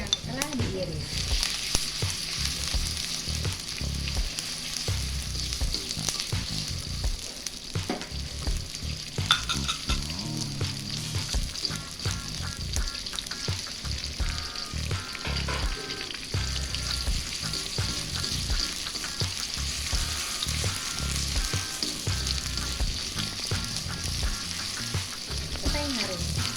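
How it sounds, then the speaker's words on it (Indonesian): Sliced onion fries in hot oil for a sweet and spicy shrimp dish. A loud, continuous sizzle runs the whole time, broken by frequent stirring scrapes and light utensil clinks against the pan. "setelah panas minyaknya, kita masukin dulu bawang bombay yang telah diiris."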